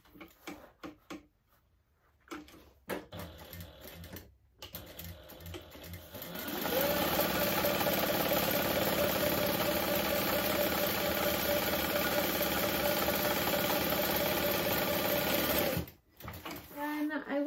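A sewing machine top stitches a slip pocket an eighth of an inch from a folded edge. Quiet handling sounds give way to a loud, steady run of stitching lasting about nine seconds, which stops abruptly.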